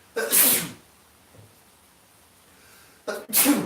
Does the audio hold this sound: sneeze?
yes